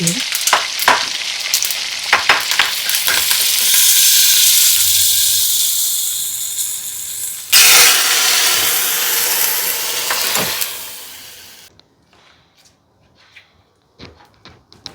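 Mustard seeds and curry leaves for a tempering crackle and sizzle loudly in hot ghee for a Karnataka amaranth leaf sasive dish, a dense continuous frying hiss with popping bursts that fades away near the end.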